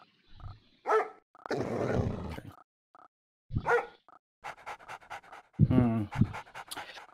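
Attack dog unit in Red Alert 2: Yuri's Revenge panting and growling in short bursts, mixed with game voice lines and other game sounds, with someone talking in between.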